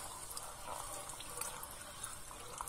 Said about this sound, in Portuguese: Agora aí cai a água. A água cai nessa água aqui